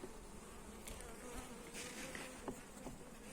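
Honey bees buzzing steadily around an average-sized hive in an apiary being readied for winter after the honey harvest, a dense, continuous swarm hum heard close and fairly faint throughout.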